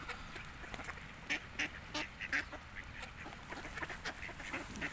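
Ducks and pigeons feeding on scattered grain in cold weather, with soft quacks and honking calls coming in short bursts over a steady low background, fairly faint and with no talk.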